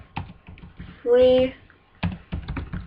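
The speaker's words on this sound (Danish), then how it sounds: "Så skriver I Skype" Quick keystrokes on a computer keyboard, close and crisp in short bursts, with a brief electronic tone in the middle and speech around the typing.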